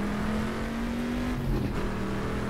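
A Corvette race car engine at Sebring in the 1970s, a deep, loud, steady engine drone that rises briefly in a rev midway, heard close and alone.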